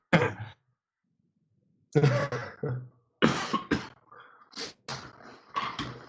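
A person coughs repeatedly in several harsh bursts, some in quick clusters and others spaced by short silences, loud and close with no talking.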